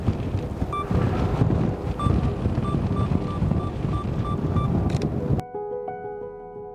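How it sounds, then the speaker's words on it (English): Strong outdoor wind buffets the microphone at a landscape photography location, a loud, rumbling gusty roar that stops abruptly near the end, leaving a faint quiet hum. "the wind seems like it's picking up and it's getting stronger"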